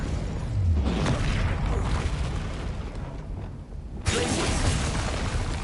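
Spell blasts and fiery bursts from Confringo and Incendio casts in Hogwarts Legacy, loud crackling explosive whooshes that sustain, dip briefly, then erupt again in a sharp new burst.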